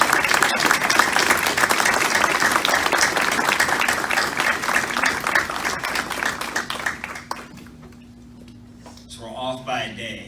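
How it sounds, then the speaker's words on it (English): Sustained applause from an audience of veterans and guests honoring nurses and staff at a Veterans Day ceremony in a Georgia veterans nursing home, dense clapping that tapers off near the end. "Please join me in a round of applause for the nurses and staff here at this great facility."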